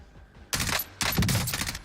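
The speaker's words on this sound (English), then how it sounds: "Oh, actually, that might be his teammate shooting." Bursts of automatic gunfire in Call of Duty: Warzone, two loud rapid volleys separated by a brief pause, close and sharp, with no voices over them.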